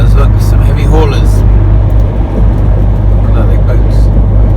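Heavy haulage trucks pass on a road, giving a loud, continuous low engine rumble and tyre roar that fills the whole stretch, with voices talking over it.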